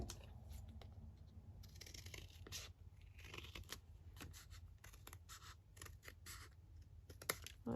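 Scissors snipping through paper botanical tags cut freehand, a run of quick, close, fairly quiet crisp snips and rustles scattered irregularly over a low background hum.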